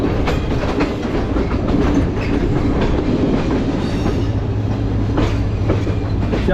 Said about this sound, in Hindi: तो दोस्तों कोटरी से डिपार्चर ले लिया हमारी ट्रेन ने